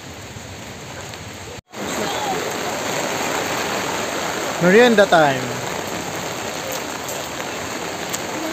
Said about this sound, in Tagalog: So malakas ang ulan, sumilong muna kami.